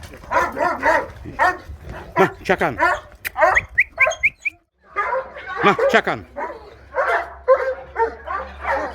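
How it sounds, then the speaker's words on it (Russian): A dog at a kennel barks and yelps repeatedly nearby in lively bursts, with a person speaking briefly amid the barking. "Собаку видите, здесь собака."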